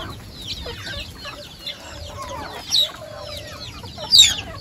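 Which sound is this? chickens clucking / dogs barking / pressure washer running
chickens clucking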